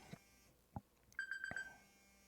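A telephone sounds a few short electronic tones, first two isolated blips and then a quick run of four evenly spaced beeps, fairly faint over a quiet room with no speech.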